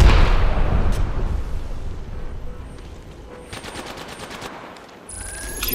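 Rapid automatic gunfire from an Apex Legends match crackles in dense, overlapping bursts, loud at first and thinning toward the middle before sharper shots return near the end.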